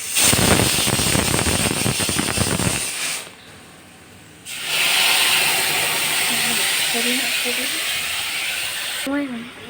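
A pressure cooker vents steam in a loud, rushing hiss that cuts out for about a second, then returns with rising, warbling whistle tones near the end.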